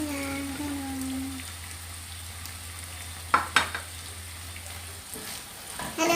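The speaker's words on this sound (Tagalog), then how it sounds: "Halo-haloin lang hanggang sa maluto ang celery at saka pork." Celery and pork stir-fried in a pan for Filipino pancit, with a low sizzle and a few sharp scrapes and clacks of the spatula stirring, fairly quiet and close.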